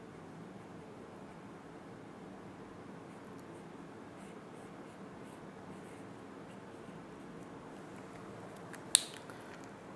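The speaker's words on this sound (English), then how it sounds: "let me draw it, then we can understand" A pen drawing a diagram on paper: a faint, continuous scratchy writing sound at close range against a quiet room, ending with a small sharp tap.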